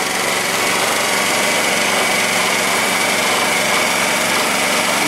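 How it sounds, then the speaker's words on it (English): A Yamaha EF2800i inverter generator runs steadily at close range, a smooth, even engine drone holding at constant level throughout with no breaks or other sounds. "Quiet generator."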